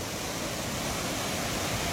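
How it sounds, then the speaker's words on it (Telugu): Water rushes through two opened gates at the Gundlakamma Reservoir, a dense, steady roar of broadband noise that stays constant and fairly loud throughout, with no talking. "అంటే 2 లాక్లు మాత్రమే వదిలినట్టు కనిపిస్తుంది వాటర్ ఫ్లోని బట్టి"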